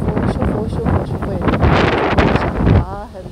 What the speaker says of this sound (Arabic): شوفوا الريح، شوفوا الريح